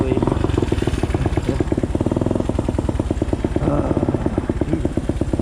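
Motorcycle engine revving hard as the bike lifts into a wheelie, a loud, close, pulsing rasp that holds steady through the clip with brief surges.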